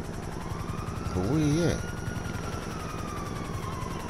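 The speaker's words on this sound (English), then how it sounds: "There's a helicopter. I don't know what, I hear it." A helicopter drones steadily overhead in the GTA V Online video game, a low continuous rotor hum beneath a brief spoken line.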